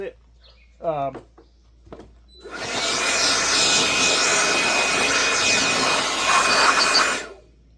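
Cherry wood is sanded with 240 grit paper, apparently by a power sander that gives a loud, steady, close whirring hiss for about five seconds before cutting off. A voice speaks briefly just before the sanding starts.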